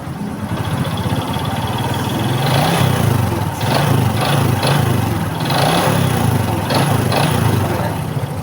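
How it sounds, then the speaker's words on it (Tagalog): A Honda XRM 125 carburetor motorcycle engine with a broken crankshaft runs steadily at idle, with a rough, repetitive knocking beneath the drone and a few brief revs. "paano i-identify ang tunog ng sirang sigunyal sa inyong mga motor"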